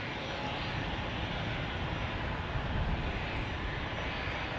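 Airliner jet engines roaring steadily at Zurich Airport on a gusty crosswind day, a broad continuous rumble that holds loud and even throughout with no talk over it.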